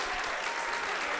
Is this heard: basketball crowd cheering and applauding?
yes